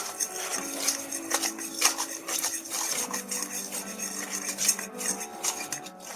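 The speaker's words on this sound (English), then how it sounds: "what I'm doing is sifting it instead of mixing it" A saltpeter and cornmeal powder mixture being sifted, with close, continuous scraping and rubbing plus light metallic clinks and taps of a sieve or bowl, uneven in rhythm.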